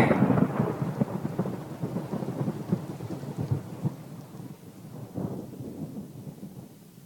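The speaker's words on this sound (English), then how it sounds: "Because after you get struck by lightning, there's thunder." A deep, rolling rumble of thunder with rain, loud at the start and slowly fading and grumbling over several seconds, with no voices.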